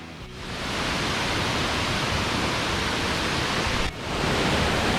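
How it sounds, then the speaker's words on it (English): Zillie Falls in Queensland, Australia, roars loudly as a constant, dense rush of water, close by and unbroken except for a brief dip near the end. "this is Zillie Falls. Very loud."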